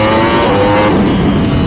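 A race-prepped Yamaha R1M motorcycle roars loud and close, its exhaust note steady with a rough, crackling edge through the whole short burst.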